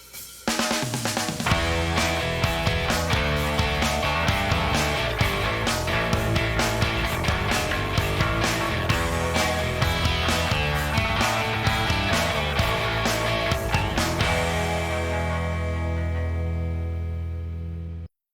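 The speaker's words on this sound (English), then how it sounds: "now we have a stereo guitar that sounds like this." Electric guitar spread into pseudo-stereo by the Reaper JS MDA Pseudo-Stereo plugin plays a steady rhythmic chord pattern, dense and full, with regular picked strokes, before a final chord rings out and fades.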